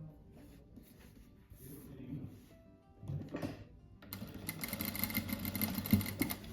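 A sewing machine stitches a hem folded about one centimetre on fabric for a car-shaped cushion, a faint rhythmic whir that starts after some quiet handling and builds steadily toward the end.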